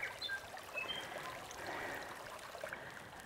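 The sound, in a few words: small creek flowing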